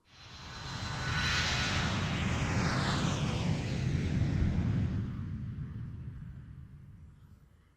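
A propeller-driven airplane swells in loudly, roars steadily overhead for several seconds, then recedes and fades away, heard in the video game Ace Attorney Spirit of Justice.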